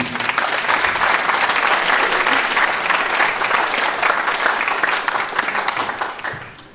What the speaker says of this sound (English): And his round of applause, please.